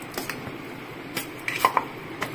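Boiled jackfruit seeds are mashed by hand in a pot, giving a handful of quiet, scattered knocks and scrapes against the metal, with no voices.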